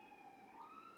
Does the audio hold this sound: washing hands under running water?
no